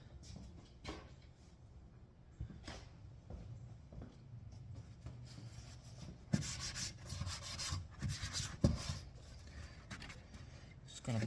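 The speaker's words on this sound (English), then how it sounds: "Just gonna clean up a little bit of some excess coolant that got flung around" Cloth rubbing and wiping across an engine bay of a Buick Encore to clean up flung engine coolant, irregular scrubbing strokes with a few sharper scuffs, close by.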